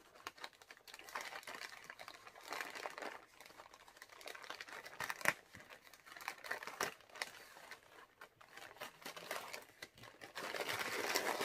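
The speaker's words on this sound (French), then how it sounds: "également dans un petit sac opaque que je vais ouvrir précautionneusement avec mes ciseaux" Crinkly plastic of a small opaque bag rustles up close as scissors open it, with small snips and scratchy handling noises coming in irregular bursts, fairly quiet overall.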